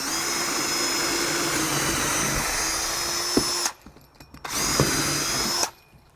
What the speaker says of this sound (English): We're drilling through this piece,